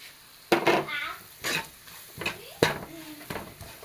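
Fried carrots and beans with chili, coriander and turmeric powders being stirred in a pan, a few sharp scrapes and clinks of a spoon against metal, spaced irregularly over a faint background hiss.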